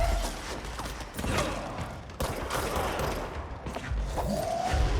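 Rapid gunfire while shooting self-healing enemies in the game Control, a dense fusillade of shots and booms running steadily across the whole stretch with mechanical clatter, loud and close.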